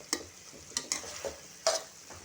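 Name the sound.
sautéing jackfruit bhaji in coconut oil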